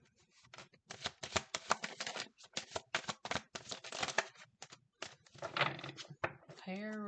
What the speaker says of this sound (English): I don't know why my cards won't shuffle.